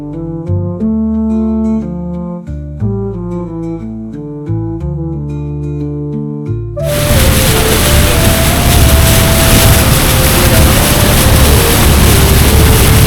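Melodic music plays, then gives way abruptly to a loud, steady boat engine drone with rushing noise that continues to the end, on Tanguar Haor wetland in Sunamganj, Bangladesh.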